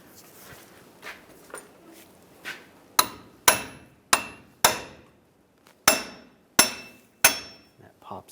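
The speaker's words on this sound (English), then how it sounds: "I'm going to hammer it with a hammer" A hammer knocking out the front axle seal on a 2007-2013 Chevrolet Silverado 1500: a few soft taps, then about seven sharp, ringing metallic blows in an uneven rhythm, close and loud.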